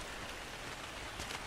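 Steady soft rainfall in the ARK: Survival Evolved game world at night, an even hiss of drops patters on surfaces with no voices over it.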